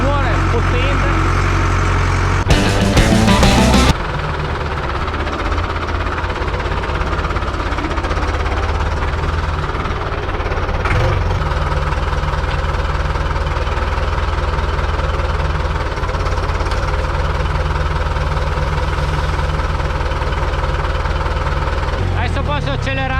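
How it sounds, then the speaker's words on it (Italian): A loud Same Centauro 70 tractor engine drones steadily throughout, with a harsh burst of clattering noise near the start and continuous low rumble. "c'è il motore che fa un rumore potente"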